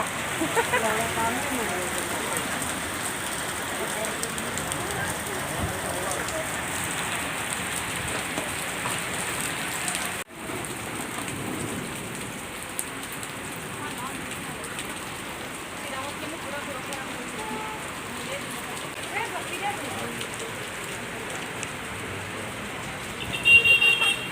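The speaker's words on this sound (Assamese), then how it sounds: "ইমান জোৰকৈ বৰফৰ বৰষুণ দিলে" Heavy hail and rain pelt down steadily in Dibrugarh in a dense, continuous patter, with a voice talking faintly beneath the downpour.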